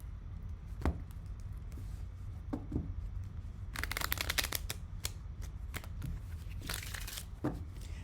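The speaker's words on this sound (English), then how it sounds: "let's pull some cards on this High Priestess here right in the center" A deck of tarot cards is shuffled and cards are pulled for a reading. Soft, close riffles and slaps come in bursts over a low steady background hum.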